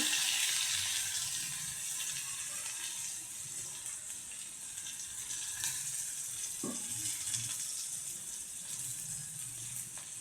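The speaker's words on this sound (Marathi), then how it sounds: "परतून घेतो आता कांदा लालसर झालेला आहे" Two medium onions sizzle steadily in a pan with asafoetida and curry leaves, a continuous soft frying hiss with light stirring, close and alone without talk.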